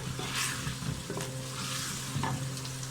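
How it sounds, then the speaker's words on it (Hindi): Garlic ginger paste sizzles gently in a hot pan while a spoon scrapes and stirs it around, close up, with a soft steady frying hiss. "लहसुन अदरक को इस वक्त तक हम भूनेंगे जब तक इसका कच्चापन ख़त्म नहीं हो जाता।"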